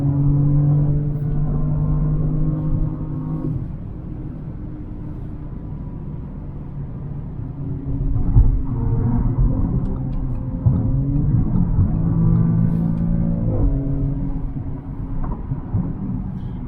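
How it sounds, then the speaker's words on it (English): A 2020 Audi S7 accelerates with a deep, steady engine rumble heard from inside the car. The engine note swells and rises through several gear changes, and no one speaks. "It's amazing how quickly you get to 100 miles an hour in this S7."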